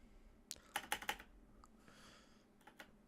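Someone types on a mechanical keyboard with Cherry Blue switches: a quick cluster of sharp, clicky keystrokes, then a pause and a few more scattered presses, close up and fairly quiet.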